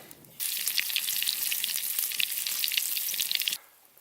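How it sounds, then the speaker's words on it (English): Sausages sizzle and crackle steadily in a frying pan on a compact camp stove during a wild camp, a loud close hiss that starts abruptly and cuts off just as suddenly, with no voices. "So the frying pan will sit up on there, cook my sausages and my rice"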